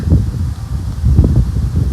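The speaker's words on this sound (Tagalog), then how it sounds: "Ang lakas ng hangin." Steady gusting strong wind rushes and buffets the microphone outdoors, a low rumbling roar that swells and dips without pause.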